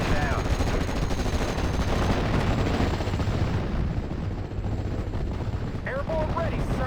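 Steel Division Normandy 44 battle sounds a dense, continuous roar of gunfire and heavy machine-gun bursts, with incoming mortar fire thudding through the mix, loud and sustained throughout.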